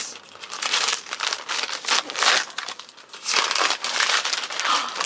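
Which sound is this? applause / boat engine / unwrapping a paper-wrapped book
unwrapping a paper-wrapped book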